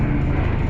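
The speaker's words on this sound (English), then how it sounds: "There's a helicopter or something, a plane, whatever." A helicopter or plane passing overhead, a steady broad rumble that fills the whole moment without breaks or talk.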